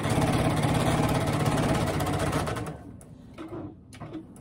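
A sewing machine stitches the fabric lining of a reusable shopping bag in a fast, loud, steady mechanical whir, then stops and leaves a quieter stretch of fabric handling and brief knocks.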